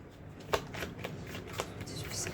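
A deck of tarot cards being shuffled by hand, with a run of soft papery riffles and several sharper snaps of cards hitting each other, close and clear with no talk.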